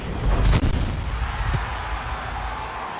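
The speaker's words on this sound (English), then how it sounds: "that's when I fire" A tank cannon fires in World of Tanks during a soccer-style match, one loud booming shot early on followed by a rumbling tail and steady engine and battle ambience.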